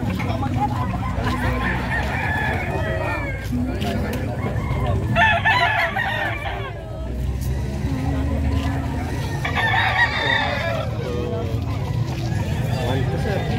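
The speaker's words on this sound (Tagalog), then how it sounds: "Dami manok." Chickens and roosters at a livestock market in San Carlos City, Pangasinan, crow repeatedly and cluck amid a busy, noisy crowd, with people talking throughout.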